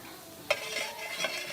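Barbecue sauce being spooned over country-style pork ribs in a Dutch oven, with a few soft wet scraping and stirring strokes that stand alone over a low background hiss.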